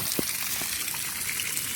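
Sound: water flowing from tap after meter leak repair

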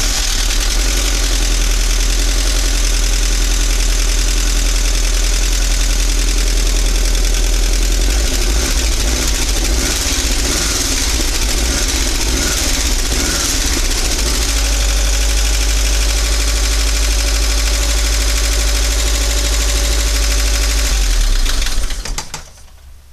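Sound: Volkswagen Vanagon 1.9 liter engine idling with clatter

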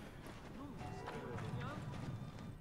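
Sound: horse hooves galloping, from video game Assassin's Creed Origins

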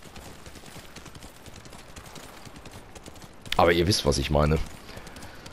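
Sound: horse riding hoofbeats in video game Ghost of Tsushima

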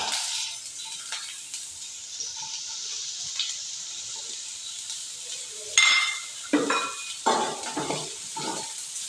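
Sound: sautéing onions in oil in a pan

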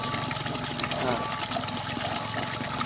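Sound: water pump running on cheap used solar panel

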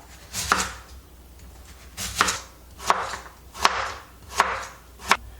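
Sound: slicing radish with a knife

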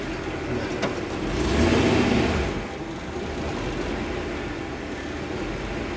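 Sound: Early Ford Bronco 351W engine running while driving

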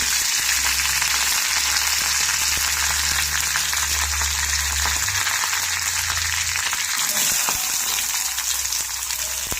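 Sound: chopped onion sautéing with curry leaves in a pan

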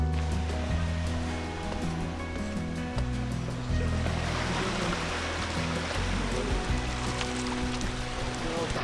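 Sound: waves on Barrier Beach, Madeline Island

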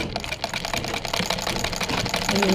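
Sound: sewing machine stitching a sleeve frill

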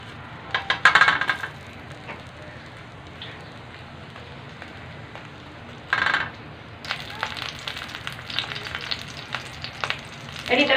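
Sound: mini burgers frying in a pan

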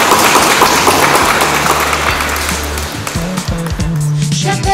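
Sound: wedding guests applauding

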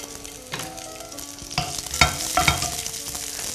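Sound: scallions frying in hot oil in a wok

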